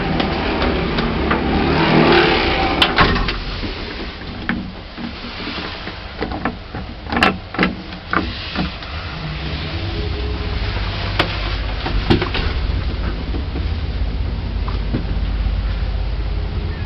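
Old Bennie lift with a modified motor running, a continuous mechanical drone with intermittent clunks and clicks over about seventeen seconds, fairly close and alone.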